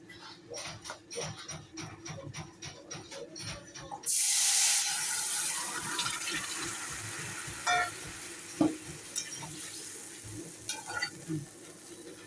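Rohu fish curry broth is poured into hot oil in a pan, bursting into a loud hissing sizzle after a few seconds of clinking, then settling into a steady, softer crackle with occasional pops.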